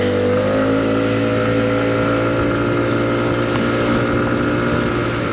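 A Lexmoto XDV125 motorbike pulls onto a main road and accelerates toward normal road speed. Its engine drones loudly and steadily close to the microphone, with wind rushing past underneath.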